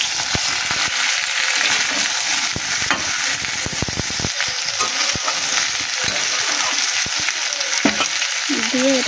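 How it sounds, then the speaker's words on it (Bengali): Malabar spinach stems and potatoes stirred in a frying pan: steady sizzling and frying with repeated scraping, clattering stirring strokes, close and fairly loud throughout. "এবার পুঁই শাক আর আলুটাকে আমরা দিয়ে দেবো, দিয়ে একটু নাড়িয়ে নেব।"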